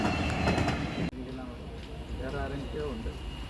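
A train arriving slowly along platform two rumbles and clatters steadily nearby with a low mechanical drone, and a voice is faintly audible over it.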